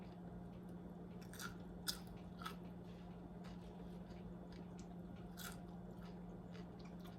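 Quiet, crisp crunches from chewing fried egg-white bits, a handful of short bites over a steady low background hum, with no talking.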